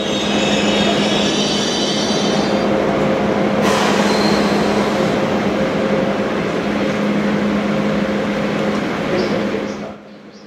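An express train bound for Berlin, rolling with a loud, steady rumble and wheel noise, brief squeals and a sharp change partway through, then fading out at the end.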